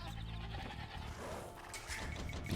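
A sheep bleats in Age of Empires II DE, a short wavering animal cry from the game, clear and moderately loud with no speech over it.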